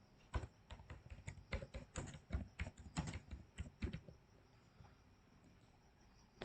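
Fast keyboard typing in bursts of close clicks and taps while entering a heading in Figma, the rhythm irregular and steady for several seconds before trailing off into quiet.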